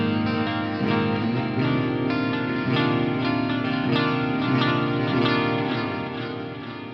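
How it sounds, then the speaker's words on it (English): Distorted metal guitar through the Audio Assault Bulldog amp plugin with delay and reverb applied, a dense sustained riff with echoing repeats and a washy tail, loud and continuous with no talking. "This is what the delay and reverb sound like."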